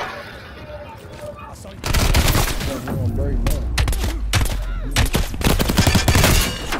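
Gunfire in Call of Duty: Black Ops Cold War, loud overlapping bursts and rapid shots filling most of the stretch after a quieter opening, with game noise underneath.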